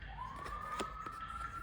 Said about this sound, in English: Confirmation right there with the sirens.